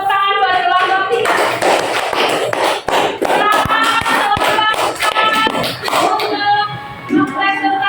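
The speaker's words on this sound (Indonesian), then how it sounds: "Terus tepuk tangan buat kelompok 3." A classroom group claps for the third discussion group during an Islamic religious studies lesson, loud rhythmic hand clapping mixed with overlapping voices and chatter, continuing without a break.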